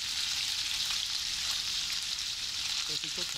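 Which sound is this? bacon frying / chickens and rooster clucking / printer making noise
bacon frying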